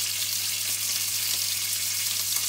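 Lamb sears in a hot frying pan for an herb-crusted lamb dish, giving a steady, close, loud sizzle with a constant frying hiss and no voices.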